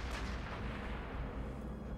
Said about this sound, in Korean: 이 게임은 계속 폭탄 소리가 저기 나기 때문에